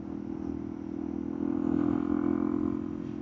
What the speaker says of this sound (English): I want to look at the motorcycle.